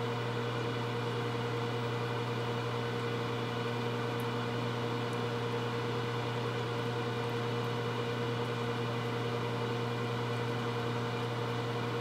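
A microwave oven hums steadily through its whole run while potato chips cook inside, a constant, even drone with no talk over it.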